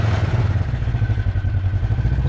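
A rental buggy engine on a day out in Cyprus runs loud and close with a steady, rumbling idle and a mechanical clatter, holding evenly throughout.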